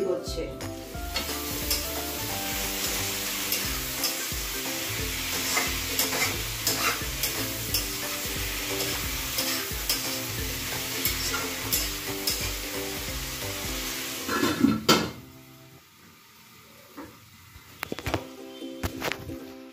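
Potato, onion and kolai chachchari sizzles and is stirred in a pan, with steady frying hiss and repeated scraping strokes for about fifteen seconds. The cooking then drops away to quieter clattering and scattered clinks.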